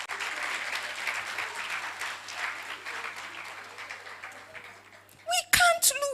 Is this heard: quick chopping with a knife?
no